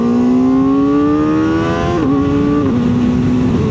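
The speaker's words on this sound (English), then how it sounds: "That has got to be the quick shifter." Kawasaki ZX-4RR motorcycle revving high and climbing, with quick-shifter gear changes producing sharp brief dips in pitch as the loud engine keeps pulling, close and continuous.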